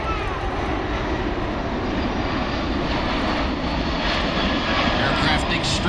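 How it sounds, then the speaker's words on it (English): C-17 Globemaster military jet transport banking through a full 360-degree turn over an airfield, a loud sustained roar of jet engines with a commentator talking over it. "Captain Ken will execute a left bank and a complete 360-degree circle inside the airfield here"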